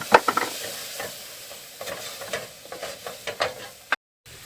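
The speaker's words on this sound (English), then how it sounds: "you just want to stir that and cook it a little bit" Spices and onions cooking in a pan while a utensil stirs them, making repeated scraping and clacking strokes over a quiet sizzle, close up, ending in a brief silence.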